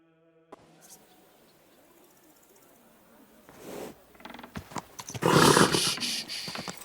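A horse in the video game Kingdom Come: Deliverance II, with creaking, a few hoof knocks and a loud snorting, whinnying burst near the end, over quiet ambience.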